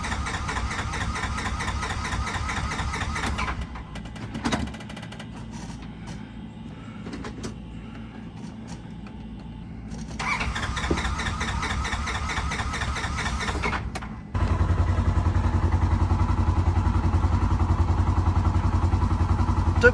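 A 2019 Polaris Ranger XP 1000 side-by-side with a newly replaced fuel pump sits running, its engine settling into a low, steady idle hum that grows fuller and louder toward the end after some quieter, uneven stretches.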